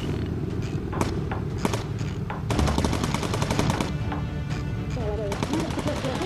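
Dense, rapid machine-gun bursts from bomber gunners in the video game Bomber Crew, loud and sustained with sharp repeated cracks, growing heavier midway, with voices talking over the gunfire.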